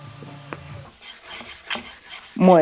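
Rusty old tools scrubbed by hand, giving short rasping rubbing strokes, some quick and close, with brief pauses between them and a louder tonal scrape at the very end.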